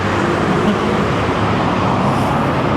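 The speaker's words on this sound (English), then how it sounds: "Morning traffic here in Bandung, in this busy intersection." Morning road traffic at a busy intersection in Bandung, Indonesia, a loud, dense and continuous rumble of cars and other motor vehicles with no distinct passes and no speech.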